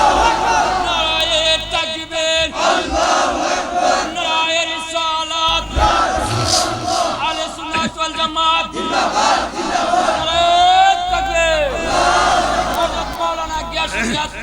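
A large crowd at an outdoor Islamic sermon gathering shouts a slogan together in loud, rhythmic bursts, voices swelling and falling over a loudspeaker-driven hubbub, with a leader's voice prompting between chants.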